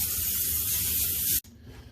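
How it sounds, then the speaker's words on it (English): Nonstick cooking spray hisses steadily from a can onto a pan for over a second, close and loud, then cuts off abruptly, leaving quieter room noise. "now that we've got everything ready, we've got our nonstick spray."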